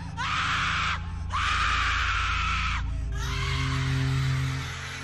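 A horrible scream in a horror story: three long, loud, drawn-out shrieking wails separated by brief gaps, with a low hum underneath.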